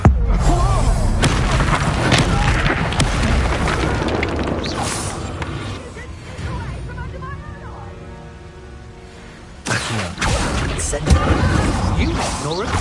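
The Incendio fire spell cast in Hogwarts Legacy: loud booming blasts and crackling bursts, a quieter stretch in the middle, then another sharp eruption near the end, with voices talking over parts of it.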